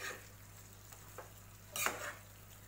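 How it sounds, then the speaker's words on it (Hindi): Vegetable Manchurian gravy with spring onion and garlic stirred in a pan, a faint sizzle under a few soft scraping strokes, with one louder stir near the end and no voices. "इसे हम अच्छे से मिक्स करेंगे।"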